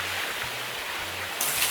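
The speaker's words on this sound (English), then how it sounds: "Fill it back up with water, and dump the water." Water being dumped in the Gold Mining Simulator video game, a continuous broad rushing wash of water with a slight swell near the end, with no voices over it.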